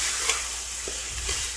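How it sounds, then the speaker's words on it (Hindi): Mutton biryani rice with salt fries in a pot, giving a steady soft sizzle with a few brief stirring scrapes over a low hum, nearby and with no voices. "ये देखिए मैंने नमक डाल दिया है, इसको भून देते हैं"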